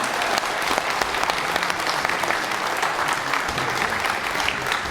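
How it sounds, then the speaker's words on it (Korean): A large seminar audience at a forum gives Daegu Mayor Hong Joon-pyo loud, sustained applause, a dense wash of many hands clapping without a break throughout. "다시 한번 우리 홍준표 대구광역시장님께 큰 박수를 부탁드립니다"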